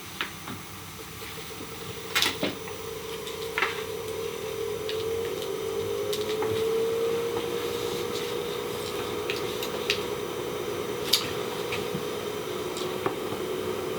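An Unelvent Pulsive VCI positive ventilation unit powers on and runs with a steady, soft mechanical hum and airy whir, punctuated by a few faint ticks and clicks, with no talking over it.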